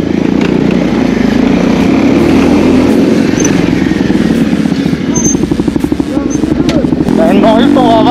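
Motorcycles on a motovlog ride near Kullu Manali, among them an NS 400, NS 200, Bullet 350 and Pulsar 180, produce a loud, close engine drone with revving pulses, while someone talks over it.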